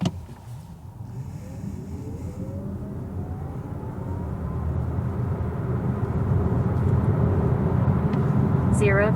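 An electric Volvo EX40 (XC40 Recharge, 2024 update) accelerates hard from a standstill, a steady whine rising in pitch and slowly growing louder over broadband road and tyre roar.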